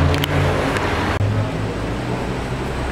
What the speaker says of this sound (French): Ah, la McLaren est de retour.